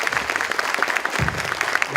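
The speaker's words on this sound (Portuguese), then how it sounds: "Pessoal, mais uma vez, uma salva de palmas ao nosso palestrante aqui, Mário Sakamoto." An audience at a digital technology conference, the Encontro Mundo Digital, applauds a speaker with steady, moderately loud clapping that fills the whole short stretch. Faint voices sit underneath.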